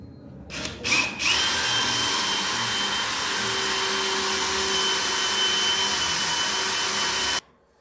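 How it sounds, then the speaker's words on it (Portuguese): A power drill whines loud and close as it backs a broken screw out of a stair step, running steadily for several seconds after a few short starts, then stopping abruptly. "Agora nós vamos tentar tirar o parafuso para utilizar o mesmo furo."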